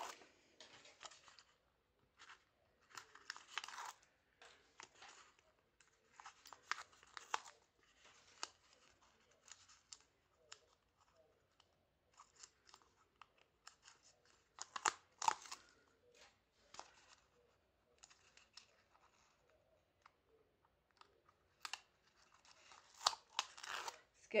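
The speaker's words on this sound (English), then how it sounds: "Peel all the strips off." Backing strips being peeled off adhesive tape for a paper mini album spine, a series of short crackly rips and tearing scrapes repeated across the whole stretch, close and fairly quiet, with occasional soft speech.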